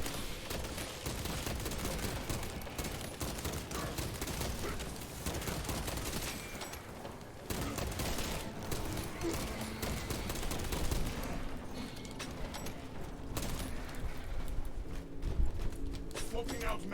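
Rapid video game gunfire in a solo shooter match, dense bursts of shots crackling almost continuously at close range, with a player talking over much of it.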